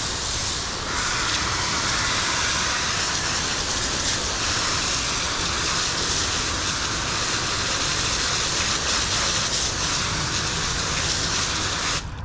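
A garden hose rinses Armour Detail Supply wheel cleaner off a car wheel, making a steady, loud, close spray that holds for the whole stretch with no talking.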